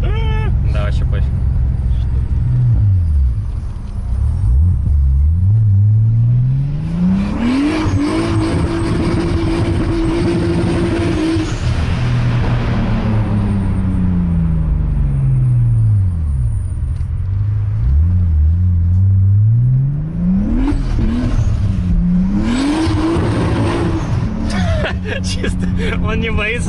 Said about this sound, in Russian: асфальт мокрый, вообще не цепляет, тачку ведет просто